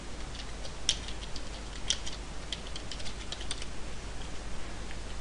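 Typing on a computer keyboard while writing a document in the Fronter learning platform, a steady stream of soft, close key clicks with a few sharper taps, alone over faint room hiss.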